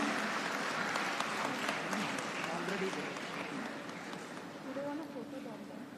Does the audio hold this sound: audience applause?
yes